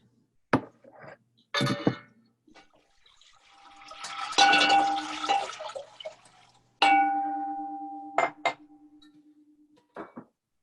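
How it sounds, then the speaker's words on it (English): Cold water and vegetable broth poured into a pot in a kitchen, splashing bursts of liquid with a few clinks and brief taps between them, close and fairly loud. "So I'll go ahead and pour my liquids in first."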